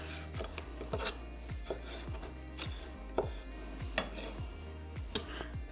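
A knife dices strawberry salsa ingredients in quick, steady chops, each stroke a crisp close tap against a hard surface, continuing at an even rhythm with no talking.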